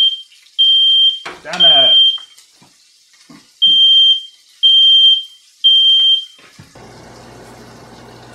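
A smoke detector shrills in a kitchen while a boneless New York strip steak sears, a series of loud high beeps in short bursts, with a person talking briefly between them and sizzling at the end.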